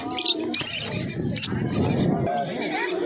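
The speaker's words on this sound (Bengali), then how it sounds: "এখানে দেখতে পাচ্ছ এক জোড়া ব্ল্যাক ককটেল রয়েছে" A pair of black cockatiels at a busy outdoor pet market: chirps and calls from birds close by, with a blur of bird sounds and voices from the market behind them.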